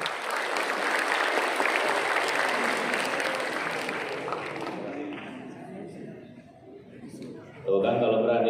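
Students clap in a dense, loud round of applause inside a hall while visiting the Deputy Speaker of Indonesia's MPR; it holds steady for several seconds, fades, and gives way to a voice speaking at the end.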